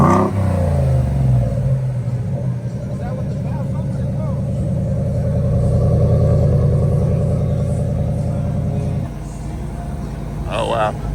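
A Ford F-150 pickup's exhaust rumbling and revving with its exhaust valves closed, a steady loud low drone that swells and dips, with people talking over it.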